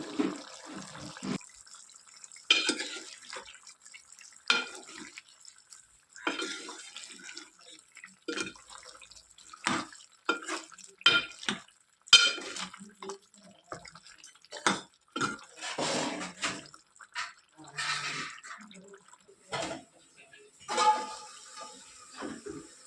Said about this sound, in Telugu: ఇప్పుడు తగినంత వాటర్ పోసుకోవాలి.